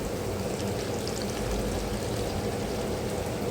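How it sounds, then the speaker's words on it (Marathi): Water poured over dried prawns in a bowl to soak, a steady, close, rushing pour that holds evenly throughout. "आता पाणी टाकून घेते"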